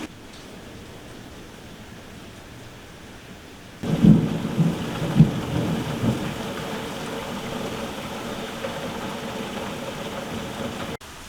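A thunderstorm with heavy rain: a steady hiss of rainfall, then a loud, close thunder rumble that swells and rolls on for several seconds beneath continuing downpour, with no talk.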